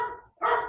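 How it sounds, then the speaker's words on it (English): A single dog bark or yip, fairly close, briefly fading then a second louder bark-like burst. "you can hear that my husband is home because Shelby is barking"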